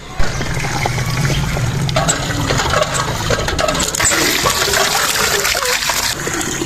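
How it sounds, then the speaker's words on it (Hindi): Potatoes and eggs being washed in water in a village cooking setting, with continuous splashing, trickling and sloshing close by throughout, no voices. "तो अभी इसे अच्छी तरह से धोते हैं।"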